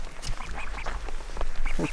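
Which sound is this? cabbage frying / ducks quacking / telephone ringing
ducks quacking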